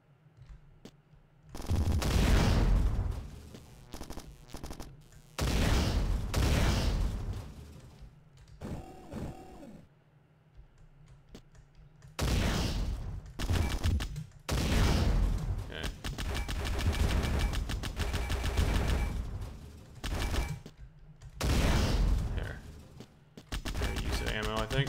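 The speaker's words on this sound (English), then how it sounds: "Shittiest machine gun ever." Machine gun fire in the robot shooter game Bad Bots, coming in several loud bursts of a few seconds each with gaps between them, plus a brief electronic effect partway through.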